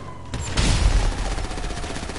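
A fireworks launcher fires in GTA 5 Online, giving a sharp blast followed by a rumbling, crackling burst of repeated pops that fades over about two seconds.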